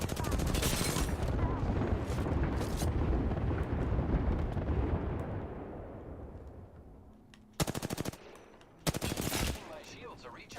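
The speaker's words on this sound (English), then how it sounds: "The enemies are shooting at me" Heavy gunfire in Apex Legends, with dense sustained shooting and booming blasts that fade into a rumbling tail, followed by two sharp bursts of rapid automatic fire.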